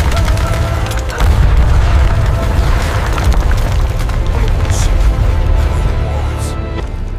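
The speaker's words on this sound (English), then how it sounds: "The ancient stone walls tremble under the force of the artillery and the intense fighting." Heavy, continuous rumbling booms of WWII D-Day artillery shake old stone walls, loud and dense with a deep roar and scattered sharper bursts throughout.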